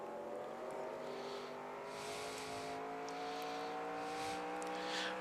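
Race car engine in NASCAR Racing 2003 during the Chevy Rock & Roll 400, a steady sustained drone holding at high revs with slight pitch shifts, continuous and fairly close throughout.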